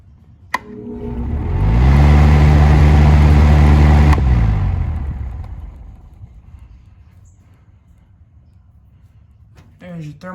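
A built box fan with a McMillan motor whirs up to speed, the hum swelling for a few seconds before the motor cuts off and spins down to a fading whir. A brief click or voice stirs at the end.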